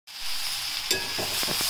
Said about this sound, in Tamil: தக்காளி ஓரளவுக்கு வதங்கிடுச்சு